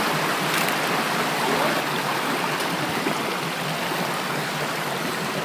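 A wide river rushes over rocks in a loud, constant, close wash of flowing water, with no talk.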